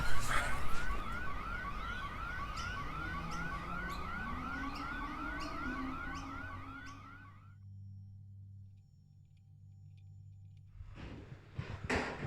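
An alarm wails loudly with a rapidly warbling siren-like tone for several seconds, then cuts out into near silence before a burst of noise returns at the end; no talking.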